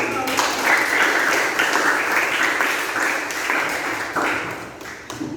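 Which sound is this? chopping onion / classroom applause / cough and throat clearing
classroom applause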